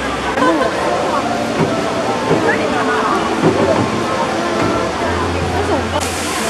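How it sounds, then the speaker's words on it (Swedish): Indoor waterfall in an indoor park in Singapore, a continuous loud rushing roar of falling water filling the space, with indistinct voices and crowd noise mixed in. "det är liksom en inomhuspark med ett vattenfall"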